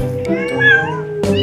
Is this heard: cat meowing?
yes